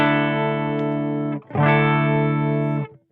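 Electric guitar run through an Artec graphic EQ pedal with every band set flat, giving two long sustained, slightly distorted chords or notes with a short gap between them, loud and alone.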